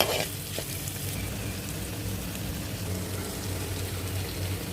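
Onions frying in a pan give off a steady, dense sizzle with faint stirring, close and even in level throughout.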